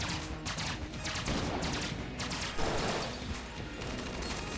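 Gunfire in the video game Enter the Gungeon: dense, rapid bursts of shots crackling one after another with hardly a pause, fairly loud and continuous.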